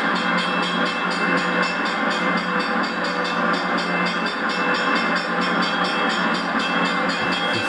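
A Long Island Rail Road commuter train rumbles past close by at Mineola, a continuous loud roar of wheels and cars with faint rhythmic clatter throughout.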